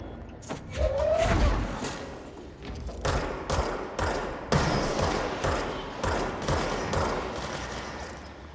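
Repeated gunshots ring out in the video game Control, a steady series of sharp cracks spaced about half a second apart, loud and close, with no talk.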